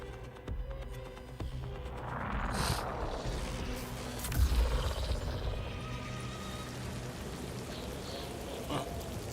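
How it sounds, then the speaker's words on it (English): Rain falls in a steady, broad wash with a low rumbling roar, swelling briefly in the middle and with a few louder splashes, and no voices. "It's raining."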